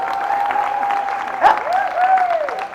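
A large crowd at a live comedy show applauds steadily, a dense wash of clapping that swells midway, with a voice talking over it throughout.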